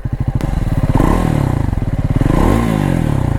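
A Triumph Scrambler 400X motorcycle engine idles close by with a steady, loud, throbbing rumble and a brief rise in revs.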